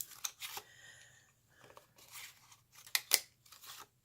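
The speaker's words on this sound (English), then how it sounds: "in fact, I need to cut out a few so I can show you how I made this one" Scissors cut out paper shapes for handmade dimensional flowers, making quiet, irregular snips and crisp paper crunches close by, with no talking.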